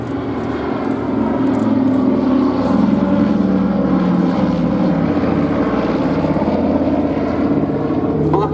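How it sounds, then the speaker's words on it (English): A Douglas C-47 Dakota piston-engined propeller aircraft flies at the Duxford airshow in the UK, its engines giving a loud, sustained droning rumble throughout. "To the US Army Air Force, it was the C-47 Skytrain and the C-53 Skytrooper."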